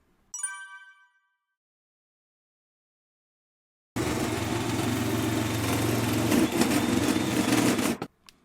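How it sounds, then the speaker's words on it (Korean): A power drill bores a hole in a camper vehicle floor for a diesel parking heater install, a steady loud whirring grind lasting about four seconds before cutting off, preceded by a brief chime. "오늘도 작업을 시작하자마자 저의 코치맨, 고통받는 코치맨이죠. 구멍을 뚫고 시작을 합니다."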